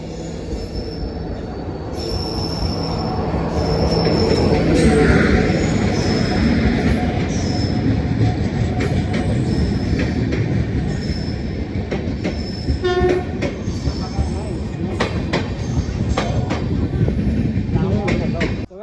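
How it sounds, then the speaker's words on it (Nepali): An electric train passes at a crossing near Gulma station, its wheels squealing and clattering over the rails with a horn blast, loud and close, while people talk nearby. "क्रसिङ भएको रेल कति सेक्सी भएर साइडबाट आउँदो रहेछ"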